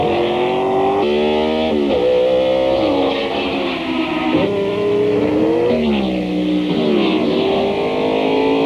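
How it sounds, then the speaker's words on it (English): Target Scotch Video IndyCars race at the 1993 Indianapolis 500, their engines loud and close, pitch climbing and dropping repeatedly through gear shifts and passes. "watch Arie Luyendyk in the Target Scotch Video IndyCar make a serious run for the checkered flag"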